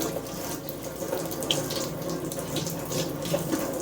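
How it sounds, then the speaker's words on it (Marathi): Tap water runs steadily while hair is washed with filter water, a continuous close splashing hiss with small shifts as the flow hits the head and basin, with no voices. "तर बापसरी तरी फिल्टरच्या पाण्यात केस धुतलेले का रे."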